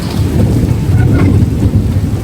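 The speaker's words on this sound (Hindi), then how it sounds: "वो कितनी तेज़ गरज रही है" Thunder rolls loudly during a night rainstorm, a deep continuous rumble close by. Steady rain hisses underneath, and no one speaks.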